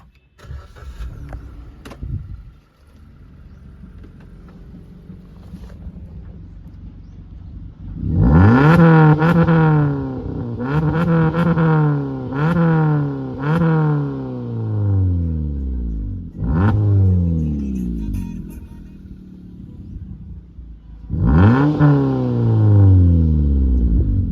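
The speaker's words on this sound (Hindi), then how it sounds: "तो ये कुछ थी इसकी वेल्वट्रॉनिक एग्जॉस्ट सिस्टम की साउंड" A Maruti Suzuki Baleno with an aftermarket Valvetronic cat-back exhaust and Akrapovic-style tip starts and revs hard several times, each loud rising blip falling back to a throbbing idle, close by with no talk.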